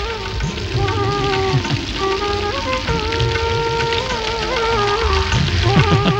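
Steady rain falls throughout, a dense continuous patter with music playing over it and no speech.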